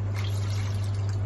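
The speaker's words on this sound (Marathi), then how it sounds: "त्यात भांड्यात मी थोडं पाणी टाकते" A little water pours into a pot of kulthachi pithi, a short, steady trickling splash over a constant low hum.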